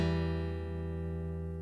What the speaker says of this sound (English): So if you want to pluck those 3 strings, it sounds like this.